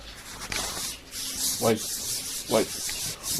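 A cloth rubbing across a camera lens, giving soft brushing swipes with two distinct louder strokes close up, while faint voices murmur in the background.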